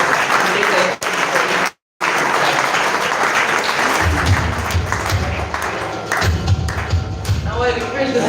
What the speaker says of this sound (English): Please have a big round of applause for their